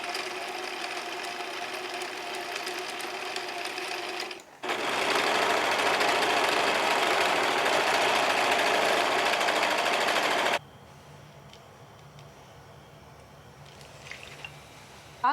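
A sewing machine stitches along a t-shirt hem in bursts, a close, fast mechanical whirring and rattling that runs for several seconds, stops, then gives way to quiet handling noises.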